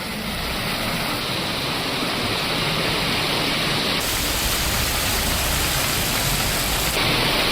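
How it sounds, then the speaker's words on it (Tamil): Heavy rain pours down steadily across Chennai, a dense, continuous hiss of water striking surfaces that stays loud and even throughout, with no voices. "சென்னையில் பரவலாக கொட்டி தீர்த்த கனமழை."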